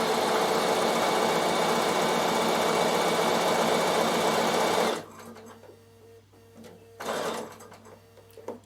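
A Bernina sewing machine stitches wool applique, running in a loud, steady close-up whir for about five seconds, then stopping, with a brief second burst of stitching shortly after.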